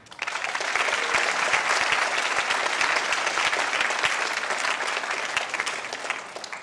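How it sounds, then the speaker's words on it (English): Loud, steady applause from a crowd at a senior chapel awards ceremony for the class of 2019, swelling quickly and holding as a dense, even clatter of many hands. "we'll clap for him anyways"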